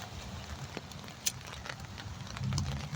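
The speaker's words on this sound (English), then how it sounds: "this little bit of rain wasn't in the forecast 4 hours ago" Light rain falls steadily on a morning outdoors, a soft continuous patter with faint scattered drop ticks and a low rumble underneath, no voices present.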